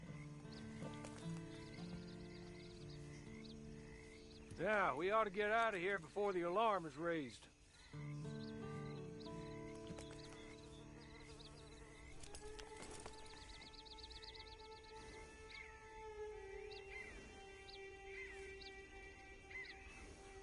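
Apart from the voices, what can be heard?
horse riding in video game Red Dead Redemption 2 Online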